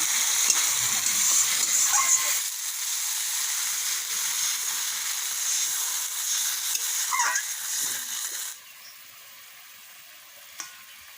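Live pond koi fish frying in a pan, a dense, crackling sizzle that runs steadily for several seconds with a few sharp squeaks, then drops to a softer, quieter simmer near the end.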